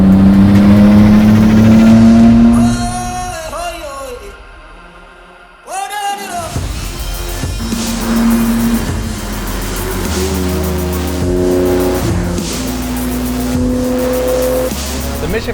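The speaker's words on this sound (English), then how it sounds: "With the audio system and that custom exhaust, this car in many ways sounds as good as it looks." A BMW 850Ci with a custom exhaust accelerates hard, its engine note rising with tire squeal, a brief drop-out midway, then sustained loud revving and squealing close by.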